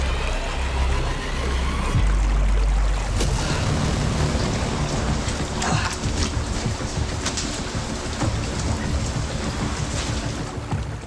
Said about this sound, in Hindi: बाहर लगातार बारिश हो रही थी। पत्थरों से रिसकर पानी गुफा के अंदर टपक रहा था।